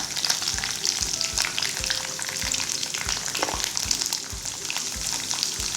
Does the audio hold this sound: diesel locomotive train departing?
no